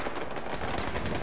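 Defensive turrets in Fallout 4 firing in a dense, continuous burst of overlapping gunshots, loud and steady throughout with no talking.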